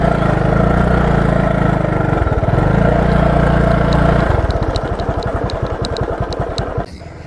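A motorcycle engine idles loud and close, a low steady rumble that shifts to a slower, pulsing putter midway, with faint clicks above before the sound drops off near the end.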